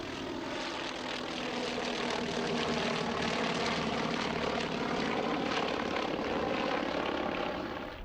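Douglas DC-2 propeller airliner departing at an air show, a steady droning rumble of piston engines and propellers holding loud and constant, with no voices.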